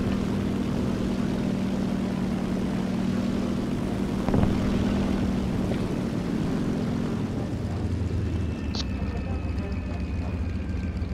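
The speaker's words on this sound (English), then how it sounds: "Charles, I just pulled my plane out of a stall with one hand." Propeller plane engine in a video game, a steady loud drone with a low hum that shifts pitch partway through, with a brief thump in the middle.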